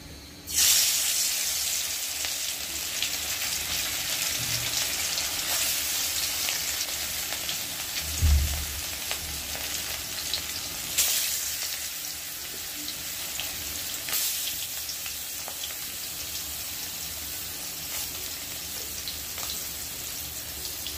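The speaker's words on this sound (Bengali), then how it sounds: "এই যে মাছগুলো দিয়ে দিলাম, এখন এটাকে আমি আস্তে আস্তে ভেজে নেব।" Steady, loud sizzling of fish frying in hot oil, a continuous crackling hiss with a few brief pops and bumps, no voices.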